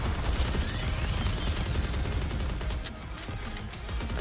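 Sustained rapid gunfire in the NIKKE shooter game, dense overlapping shots at steady loudness that dip briefly near the end before resuming.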